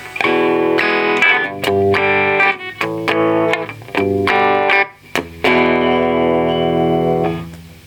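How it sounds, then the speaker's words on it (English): Electric guitar (Gibson Les Paul Studio 50's Tribute, 2013) with a bright, biting bridge-pickup tone, strummed chords and short riffs with slight distortion, ending on a sustained ringing chord. "That's the bridge pickup, nice and sparky"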